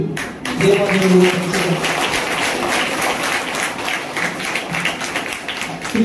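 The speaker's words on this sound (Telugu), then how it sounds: "ఒకసారి గట్టిగా సంతోషముగా ఆనందముగా చప్పట్లు కొడుతూ దేవాలయంలో" A church congregation claps joyfully during a St. Thomas feast celebration, broad steady applause filling the room for several seconds with voices briefly heard near the start.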